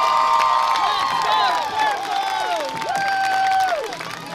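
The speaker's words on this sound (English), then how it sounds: "You can hear the crowd." Football crowd at a college game against Otterbein, cheering before kickoff as the team takes the field: a steady roar of many voices with scattered high whoops and shouts rising and falling throughout.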